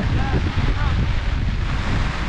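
Strong northeast wind blows across an open rice field in a loud, continuous roaring rush with a faint whistling tone riding on top.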